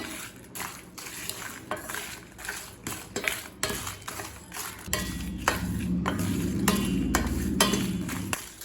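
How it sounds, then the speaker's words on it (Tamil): Whole spices and Kashmiri chillies dry-roasting over low heat in a pan, stirred steadily with a utensil that gives repeated close scraping clicks, with a low rumbling undertone building in the second half. "ஸ்லோவில் வச்சு நல்ல வாசனை வர வரைக்கும் வறுத்துக்கோங்க"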